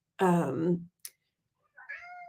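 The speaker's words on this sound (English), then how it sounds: "That's my cat, sorry about that." A cat gives a loud, drawn-out meow up close, then a short pause and a second, quieter meow.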